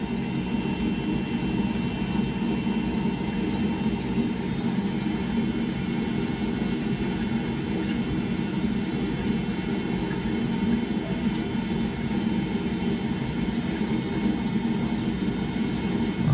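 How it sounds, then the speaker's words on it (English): Machinery in the engine room of a steel-hulled boat gives off a constant, heavy droning hum with a low rumble, unbroken and steady from start to finish. "let's check out the engine room as well"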